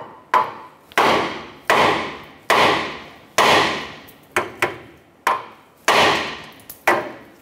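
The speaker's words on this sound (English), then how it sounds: "I'm gonna use a hammer and we're gonna strike our knuckle to go ahead and release our outer tie rod" About ten sharp metallic hammer blows ring out against the steering knuckle of a 2008-2012 Honda Accord, one after another at an uneven pace, each loud strike trailing off briefly, with no talking.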